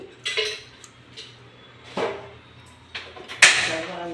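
A cooking pot is set down on a stove, making a few sharp metallic clanks and clinks at scattered moments against a quiet kitchen background while oil is added for a tempering.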